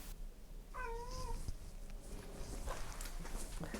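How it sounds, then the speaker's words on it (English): A kitten gives one short, faint meow in a domestic kitchen, heard among soft footsteps and background household noise. "we've got a kitten right here who I'm going to feed"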